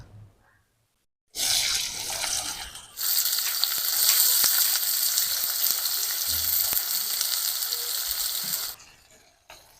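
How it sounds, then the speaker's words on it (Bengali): Chopped onion with a little salt and turmeric frying in oil in a karahi, a steady loud hiss that erupts after a short quiet gap and runs continuously before tailing off. "পেঁয়াজটাকে আমি একটু হালকা করে ভেজে নেব"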